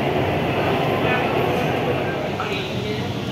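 A Kolkata metro train rolls into Howrah station under the Ganges, a steady loud rumble and hum of the moving carriage with faint wheel clatter, heard from inside the train.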